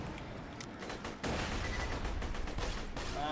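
Gunfire and grenade blasts from the video game Borderlands 2 crackle in rapid bursts, a dense run of sharp shots with a louder explosive surge partway through, fairly close and with no speech over it.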